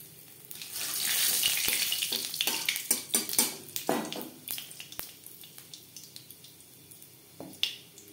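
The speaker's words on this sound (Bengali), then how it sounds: "কুড়ি সেকেন্ড কালো জিরে ভেজে নেওয়ার পর দিয়ে দেবো মশলার পেস্ট।" Nigella seeds crackling in hot oil left over from frying fish, a busy run of sharp pops and snaps over a soft sizzle, close and fairly loud, with utensil clinks and no talking.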